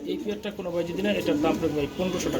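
Afsan grizzle baby pigeons cooing at a pigeon market, a steady run of soft, close, overlapping coos with busy market voices mixed underneath.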